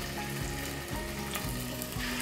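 Bone-in, skin-on chicken pieces searing in hot oil for a red curry, giving a loud continuous sizzle close up, with a few dull low thumps as the pieces shift in the pan.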